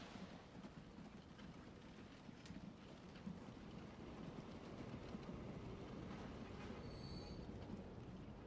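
A train rolls along in the video game Transport Fever 2, a faint, continuous rumble of wheels and cars with light squealing, heard alone without talk.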